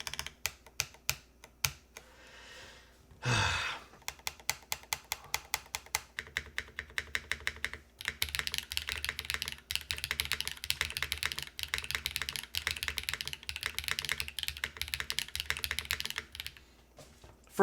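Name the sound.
typing on Fox65 mechanical keyboard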